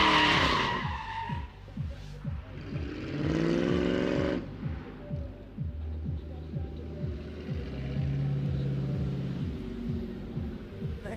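Drift car tires skidding and squealing at a drift event, engine rumbling steadily beneath long screeching slides close by, with people talking over it.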